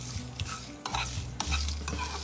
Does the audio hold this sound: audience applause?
no